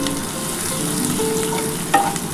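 Onions sizzle steadily in hot oil for a Bengali-style chicken and potato curry, a continuous close frying hiss with a brief stir or scrape near the end and no talking.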